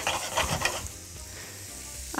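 Ground meat sizzles and crackles steadily in a hot pan, with a few stirring scrapes early on, close and fairly loud.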